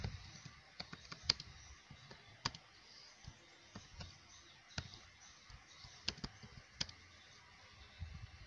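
Keys clack in irregular bursts as someone types on a computer keyboard, entering a title into a Google Form; the taps are crisp but fairly quiet against a faint low background hum, with no talking.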